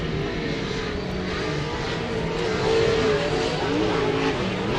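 A Pro 2 short course off-road race truck at Glen Helen Raceway drones steadily at mid distance, its engine note swelling briefly louder as it works through corners, with no talk.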